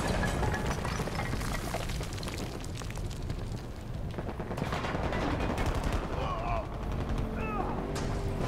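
Gunfire rattles in Battlefield 2042 on Xbox Series X, rapid automatic bursts mixed with explosions and battlefield clutter, a voice speaking over the shooting.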